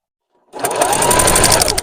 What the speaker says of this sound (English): just attach it like that and just sew straight down